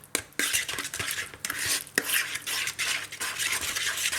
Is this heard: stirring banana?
yes